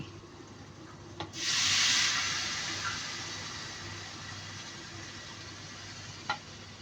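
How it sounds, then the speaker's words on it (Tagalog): Water poured into a pot of chicken cooking on the stove raises a sudden hiss and sizzle that swells for a moment, then settles into a lower, steady bubbling simmer. "Ayan, lagyan natin ng tubig."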